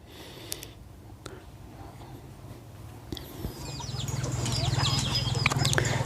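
Fowl cluck and call at close range in a quiet farmyard, with scattered sharp peeps early on and a busier, louder stretch of clucking and chirping building toward the end.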